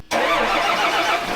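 A farm vehicle's engine cranks and catches after a brief quiet moment, settling into a loud, steady mid-pitched running roar.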